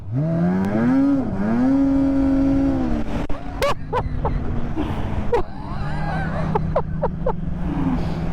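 A 2024 Polaris Indy VR1 boosted snowmobile engine revs and climbs in pitch, then holds a steady loud drone while riding on the trail, with wind buffeting and brief sharp clicks over the continuous motor.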